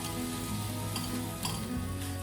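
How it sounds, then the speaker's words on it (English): Sliced linguica sausage sizzling in a pan for a Francesinha sandwich, a dense, steady, close crackle with no talking. "So you want to just cook up the linguica"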